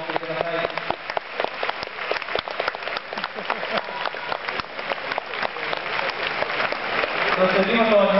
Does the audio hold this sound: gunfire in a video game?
no